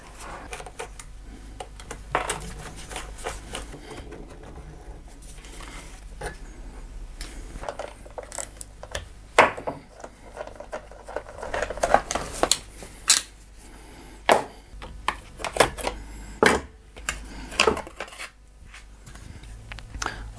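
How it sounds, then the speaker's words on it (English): Work on a Kymco GY6 engine on a workbench while its carburetor comes off: scattered small metallic clicks, taps and rattles of tools and parts, up close and fairly quiet, irregular throughout. "the first thing I want to do is take the carburetor off"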